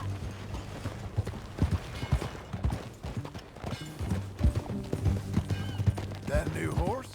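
Rhythmic horse hoofbeats in the video game Red Dead Redemption 2 clip-clop over a steady low hum, with a snort near the end; voices speak intermittently around the steps.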